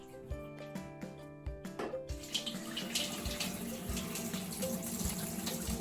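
Bean soaking water pours through a sieve, starting with a few scattered splashes and drips, then swelling into a steady, rushing stream of water with no voices.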